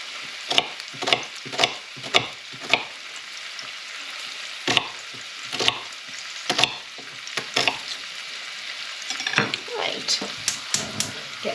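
Meatballs browning in oil in a frying pan, with a steady close sizzle broken by repeated sharp clatters and scrapes as they are stirred and turned.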